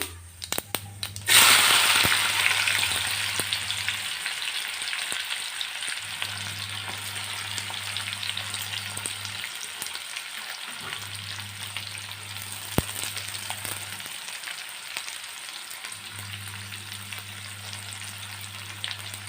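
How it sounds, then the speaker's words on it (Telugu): Sliced onions and green chillies fry in a pan for masala curry, a steady close sizzle with a loud burst near the start as they hit the oil, then a continuous crackle with a low hum pulsing on and off beneath. "వేగాక సన్నగా కట్ చేసుకున్న ఉల్లిపాయ ముక్కలు, పచ్చిమిర్చి వేసుకోవాలి."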